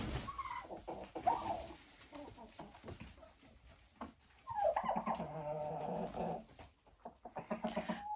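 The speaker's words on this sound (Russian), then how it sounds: "Петушки, конечно, тоже не против, помогают индюкам кушать." Turkeys and roosters eat together at close range, giving bursts of clucking and gobbling calls over scattered pecking noises.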